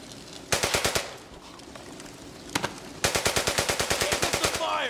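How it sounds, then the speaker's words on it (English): Video game machine-gun fire from the WWII shooter Brothers In Arms: Hell's Highway, heard as loud rapid bursts: one short burst, a single shot, then a longer sustained stream of rounds. "Keep up the fire!"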